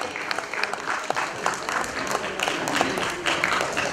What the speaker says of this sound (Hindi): जोरदार तालियां दीजिए इस कलाकार के लिए